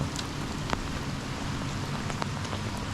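Steady rain pours on a farmyard, a dense, even hiss with scattered nearby drip impacts, continuous and moderately loud throughout, with no voices.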